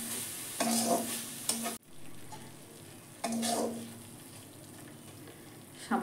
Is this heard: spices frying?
yes